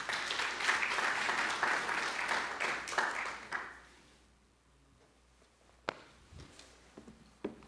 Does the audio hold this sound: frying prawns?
no